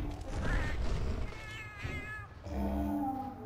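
Cats in a video game meow and caterwaul repeatedly, a run of drawn-out, wavering yowls close by, with faint game sounds underneath.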